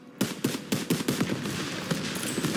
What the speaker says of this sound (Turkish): Bu arada kullandığımız tüfeğin adı M1919.